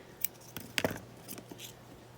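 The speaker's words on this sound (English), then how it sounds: "snip the ribbon" Scissors snip through a ribbon up close, a few quiet, crisp cuts with one sharper snip in the middle, heard alone in a quiet room.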